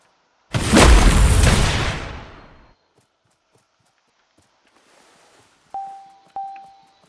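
In the Blue Lock Rivals video game, a ball shot lands as a loud booming impact with a roaring rush that fades over about two seconds. Two short ringing thuds follow later.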